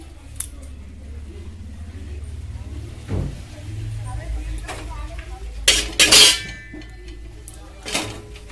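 A pan for frying onions while cooking chicken biryani is set down and handled, giving scattered metallic clanks, clinks and scrapes, louder near the end, while a person talks.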